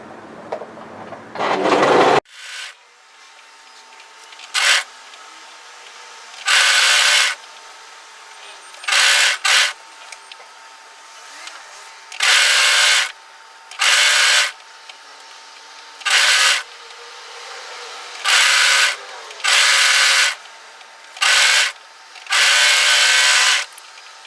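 An overlocker sews the hem of a cowl neck top in repeated loud, rapid whirring bursts of a few seconds each, separated by quiet pauses, after a brief rustle at the start.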